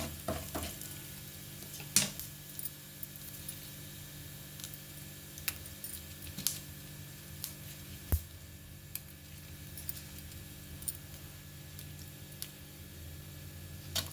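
Mustard seeds and cumin sizzle in hot oil in a pan while tempering for an okra fry: a steady soft hiss broken by sharp, sparse pops and ticks, close and fairly quiet, with no talking.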